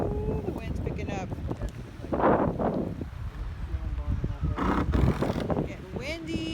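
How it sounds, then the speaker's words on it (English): Strong gusts roar against the microphone in rising and falling bursts, with a voice talking intermittently underneath. "Ooh, the wind's picking up."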